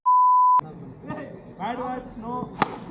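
A single flat, loud censor beep lasts about half a second and ends abruptly, followed by casual talk and a sharp knock during an office cricket game.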